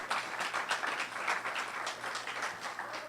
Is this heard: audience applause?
yes